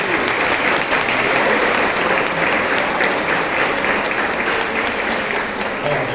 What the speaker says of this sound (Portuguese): Salve de palmas aí.